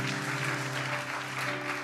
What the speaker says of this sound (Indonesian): Kasih tepuk tangan yang paling dahsyat